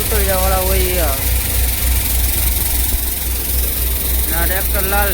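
A red Mahindra tractor engine runs steadily on a farm during wheat harvest, a continuous low mechanical drone throughout, with voices speaking over it at the start and end.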